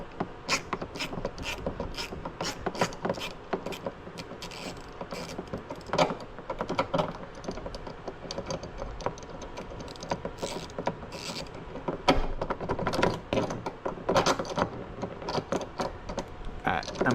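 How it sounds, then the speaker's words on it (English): Ratchet wrench clicking in short bursts of sharp metallic ticks while working on a VW Tiguan's rear sunroof drain, close and fairly quiet, with pauses and small handling knocks between the turns. "it was kind of bottoming out my ratchet"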